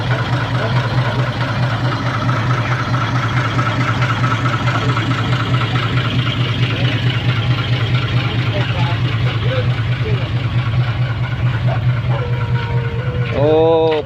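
A six-wheel dump truck idles with a steady, low, throbbing engine drone throughout, its rear wheel dropped into a drainage ditch after a too-tight turn; a brief higher-pitched sound and voices are faintly audible near the end.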